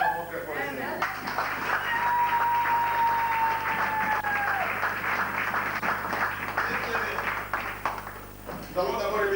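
A church congregation applauds and acclaims during a service, sustained dense clapping with cheering voices filling the space for most of the stretch, then tapering near the end as speech returns.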